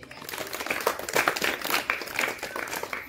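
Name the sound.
audience clapping for a student speaker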